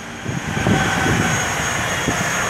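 An airplane takes off on a Friday afternoon under dark clouds, a steady loud engine roar rumbling throughout with no speech.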